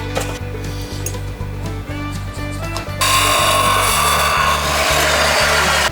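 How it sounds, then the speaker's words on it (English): A grinder in a workshop runs with a rhythmic mechanical drone, then bites into material at about three seconds with a loud, bright, harsh grinding that continues steadily to the end, no talk. "Hey, the grinder."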